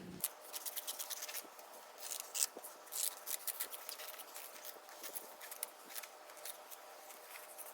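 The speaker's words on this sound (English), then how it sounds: "I'm going to cut out this last pants leg and cut a long strip for a band to go around the waist area" Scissors snip through a denim pants leg, cutting out a long strip for a waistband; soft, close crisp snips and scratchy fabric rustles repeat at an irregular pace with no talking.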